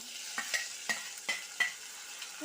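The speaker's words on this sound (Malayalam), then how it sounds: "ഇതിലേക്ക് നമുക്ക് തക്കാളി ചേർത്ത് കൊടുക്കാം" Tomatoes hitting a pan with green chilies frying for rasam, a quiet sizzle broken by a handful of distinct spatula knocks and scrapes at an uneven pace, with no talking.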